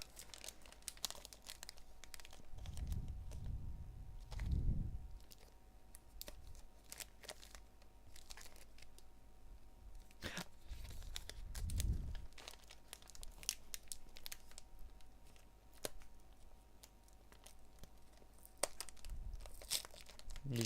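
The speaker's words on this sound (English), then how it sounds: "How do you open one of the Cadbury packs?" A Cadbury chocolate wrapper is crinkled and torn open close by in repeated bursts of rustling plastic, with a few sharper rips scattered through and no talking.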